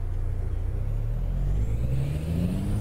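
Engine of a Peterbilt 387 truck in American/Euro Truck Simulator, a deep, steady diesel drone that slowly rises in pitch as the truck gathers speed, loud and close with no voices over it.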